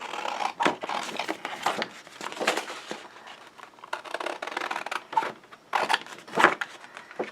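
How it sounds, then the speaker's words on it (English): Scissors cutting a paper tag out of a sheet of patterned craft paper for a large scrapbook album, a run of close, crisp snips and crinkly rustles coming in uneven bursts with no talking. "I'm just going to come in with my scissors here"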